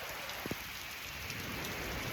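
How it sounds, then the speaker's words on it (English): Heavy rain pours steadily on a rooftop deck construction site, a dense, even hiss of drops with one brief louder knock near the start and no voices. "there's really not much you can do at all when it's this level of rain"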